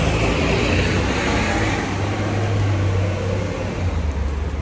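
A bus rumbles past amid steady street traffic in Honolulu, a continuous low engine drone filling the foreground with road noise behind it.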